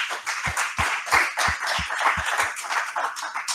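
An audience applauds at a banking innovation awards ceremony, a steady wash of many hands clapping with a few distinct nearer claps standing out, fairly loud and continuous with no talk.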